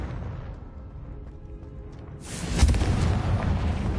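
A fiery spell blast from the game Hogwarts Legacy erupts with a loud boom and roaring burst, following a stretch of quieter ambient rumble.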